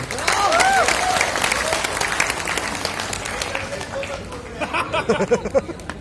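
An audience at a meet-up gathering applauds with a dense wash of clapping and crowd chatter mixed in. The clapping thins into a few scattered claps toward the end.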